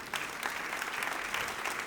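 Church congregation breaking into applause after a sermon, a brief burst of many hands clapping together, even and sustained from a moderate distance.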